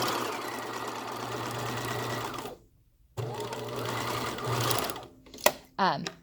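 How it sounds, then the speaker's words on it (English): A sewing machine runs a straight stitch along fabric, humming close and steady in two runs split by a brief stop. It ends with a few handling clicks and a short voice. "just have our fabric aligned with the edge again, and then just do a straight stitch down"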